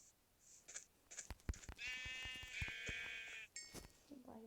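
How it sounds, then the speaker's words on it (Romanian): Sheep in Minecraft bleating in a couple of loud, buzzy cries, surrounded by clicking, tapping game sounds, with a voice talking quietly underneath. "Uite oaia mea."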